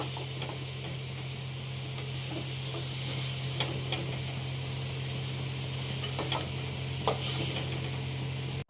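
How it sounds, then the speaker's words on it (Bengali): Large prawns sizzling and bubbling in hot frying oil as they are stirred and lifted out, a steady broad hiss with scattered crackles and a constant low hum underneath, no talking. "বড় বড় তো আমি হালকা করে এখন ভেজে নিয়েছি এখন মাছগুলো তুলে নিচ্ছি"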